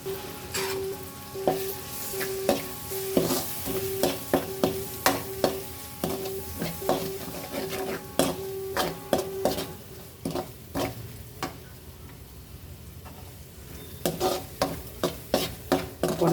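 Egg fried rice is stir-fried in a pan, with a continuous sizzle under repeated sharp scrapes and taps of the spatula against the metal in an uneven rhythm.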